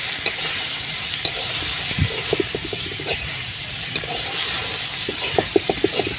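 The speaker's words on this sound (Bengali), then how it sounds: "পোড়ানো মাংসগুলো দিয়ে দিলাম দিয়ে আমি একটু কষে নেবো" Chunks of grilled, smoky kabab meat sautéed in masala in a pan over a wood-fire clay stove: a steady close sizzle with sharp spoon scrapes and clicks against the pan, clustering in quick bursts toward the end.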